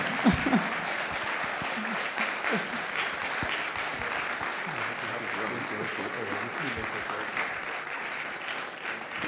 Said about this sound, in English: I think Mr. President deserves a louder round of applause